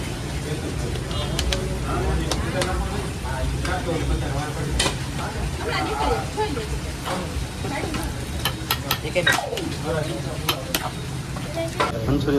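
Manchurian is stir-fried with sauce at a busy street food stall, a steady sizzle and scrape of ladle against pan running under chatter and background street noise, with scattered metallic clanks.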